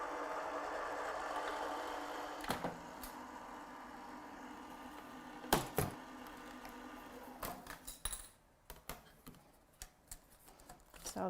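A die cutting machine runs card through with a soft, steady mechanical whir, punctuated by a few sharp clicks and knocks near the end; quiet and close.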